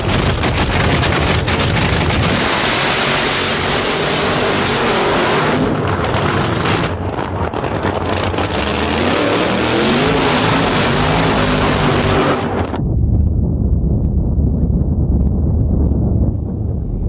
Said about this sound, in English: He's getting ready to make his burnout.